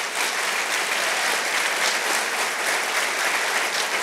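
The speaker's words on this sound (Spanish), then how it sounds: "vamos, aplauda al Señor nomás" A church congregation applauds together in a dense, steady wash of clapping that fills the room at full volume for the whole stretch, with no voices rising above it.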